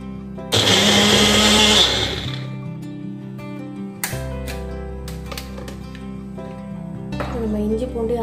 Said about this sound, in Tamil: குட்டி ஜாரில் நான் இஞ்சி பூண்டு அரைக்க போகிறேன்.